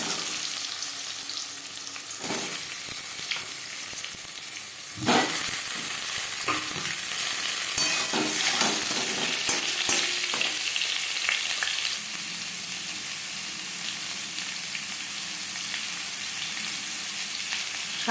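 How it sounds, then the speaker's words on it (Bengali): Boiled potatoes fry in hot oil for an alu chicken curry, a steady crackling sizzle broken by stirring scrapes and sharper pops, with the sound shifting as the pan is handled. "আলু আমি সেদ্ধ করে নিয়েছিলাম আলু ভেজে নেবো"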